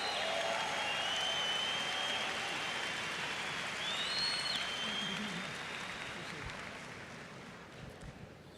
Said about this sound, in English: We must give him a standing ovation.